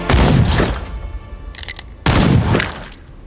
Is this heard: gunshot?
yes